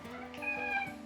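A colleague's cat gives one short, high meow, close and clear, with steady room noise underneath.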